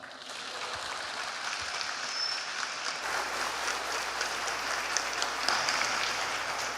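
Audience applause at a church testimony event, steady and sustained clapping from a crowd that swells slightly midway and carries on throughout.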